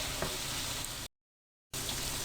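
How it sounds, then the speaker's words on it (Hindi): Ground coriander powder fries in hot oil for a degi tikka masala pulao, making a steady, even sizzle that cuts out abruptly for a moment and then resumes. "1 मिनट के लिए आपने इसको फ्राई करना है।"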